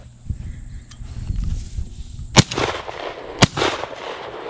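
Shotgun shots at a clay target during a duck-season clay shoot outdoors, two loud sharp blasts about a second apart, each followed by a rolling echo, over faint background noise.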